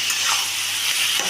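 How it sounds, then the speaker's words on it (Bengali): Lau chingri, bottle gourd with prawns, being stir-fried with spices and a pinch of sugar in a pan as its water cooks off: a steady close sizzle with soft stirring scrapes throughout. "দিয়ে আমি এটাকে ভালো করে কষিয়ে নিচ্ছি"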